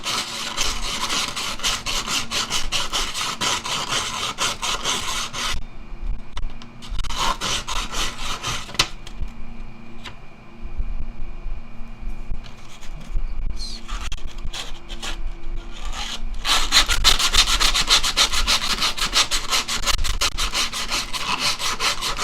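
A wooden serving spoon is worked by hand, sanded and filed with steady back-and-forth rasping strokes in loud bursts separated by quieter pauses, with no talking.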